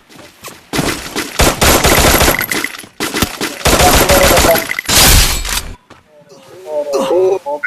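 Rapid machine-gun bursts in the shooting game Free Fire, three long loud volleys of automatic fire close up, with a voice talking in the quieter stretch at the end.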